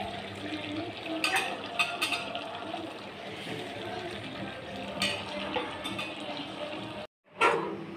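Water pours into a pot of soaked rice for chicken dum biryani, a soft, continuous splashing stream with a few brief clatters and a short break near the end.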